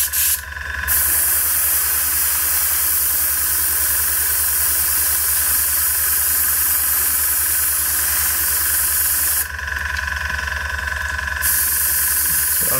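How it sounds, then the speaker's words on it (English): Steady airflow blown over a freshly painted miniature to dry the paint, a constant close hiss that runs for the whole stretch and briefly swells louder at the start and again near the end. "So I'm just blowing it with air now."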